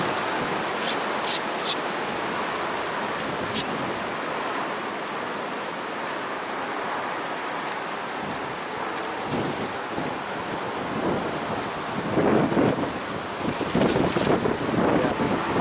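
Gusty wind blows steadily outdoors at a flintknapping spot, a broad continuous rush with stronger buffeting near the end, plus a few brief clicks early on.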